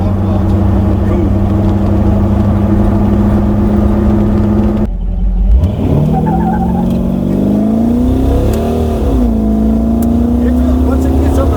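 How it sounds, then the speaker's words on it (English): A Jeep engine idles loudly and close by in a hot-rod garage, then revs up with a rising, sweeping pitch before settling into a steady higher drone. "Once it gets up in RPM, it's real good."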